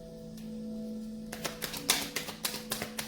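A deck of tarot cards is shuffled in a quick riffle of crisp, close flicking taps that follows a brief quiet hum.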